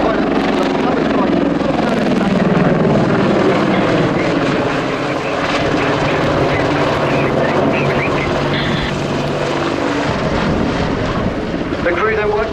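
An Apache attack helicopter flying at the Royal International Air Tattoo air show, a loud sustained rotor and engine roar with a shifting pitch as it manoeuvres, under a commentator's continuous narration.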